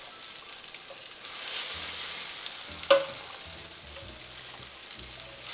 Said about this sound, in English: My pasta cooked and it's al dente. I will transfer it to my hot pot.